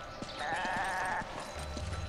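A sheep in the video game Resident Evil 5 gives one short bleat over faint footstep-like thuds and low game ambience, with a low rumble entering near the end.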